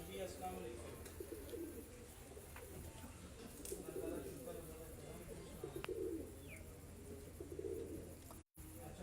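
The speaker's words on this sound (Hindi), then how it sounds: "उस्ताद अपने हाथों से अपने कबूतरों को माशाल्लाह खुराक दे रहे हैं" Pigeons on a rooftop loft coo softly while being hand-fed, with scattered chirps and movement under a steady outdoor background; the birds sound fairly faint and distant.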